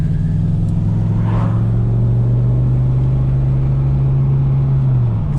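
A deep, steady V8 engine rumble from a Holden VS Series III Statesman holds a low idle-like note throughout, loud and close, with a brief rising rev near the start.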